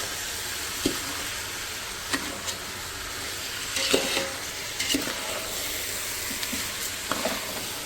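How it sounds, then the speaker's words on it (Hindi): Rice is stirred with sugar and ghee in a pan, giving a low steady sizzle with occasional soft spoon scrapes and knocks spread across the stretch. "राइस को हम कर देंगे मिक्स चीनी के साथ"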